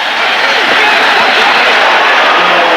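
A stadium crowd roars and cheers at a 1984 USFL divisional playoff football game in Birmingham, a dense, sustained wash of massed voices filling the whole stretch at steady loudness.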